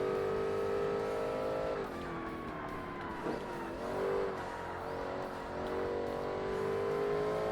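An 800-horsepower race car in Forza Motorsport accelerates hard, its engine a loud, steady whine rising in pitch, briefly dropping at gear shifts before climbing again, with faint tire noise beneath.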